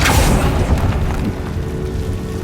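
A Confringo spell explosion from Hogwarts Legacy, a loud boom at the start with a broad blast that decays into a rumbling tail over a couple of seconds, no talk.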